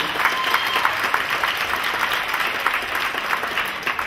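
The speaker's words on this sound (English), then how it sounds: "Give them a big round of applause" A crowd applauds dancers at a live show, a sustained, even patter of many clapping hands lasting several seconds with no talking over it.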